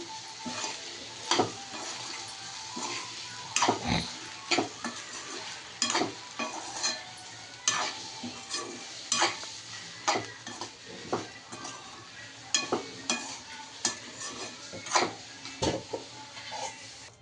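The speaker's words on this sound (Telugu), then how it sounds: "ఇలా వేయించుకునేటప్పుడు కొంచెం సాల్ట్ స్ప్రింకిల్ చేసి చల్లామంటే అండి తొందరగా మగ్గిపోతాయి." Sliced onions sizzle and fry in a pan for onion chutney, a spatula scraping and stirring them in repeated sharp clinks against the metal over a steady hiss, close and fairly loud throughout.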